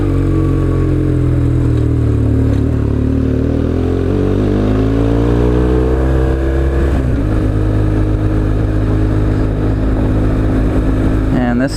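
A BMW R1150 motorcycle engine drones loud and close as it climbs uphill on the Mid Atlantic Backcountry Discovery Route, its pitch rising and falling through gear changes and throttle shifts, with constant rushing noise throughout.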